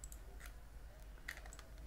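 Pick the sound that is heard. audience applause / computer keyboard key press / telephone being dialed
computer keyboard key press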